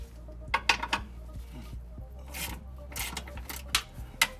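A 13mm socket loosens a battery bolt on a Chrysler Sebring, giving short, uneven bursts of metallic rasping and scraping clicks, close and fairly quiet, with no voices.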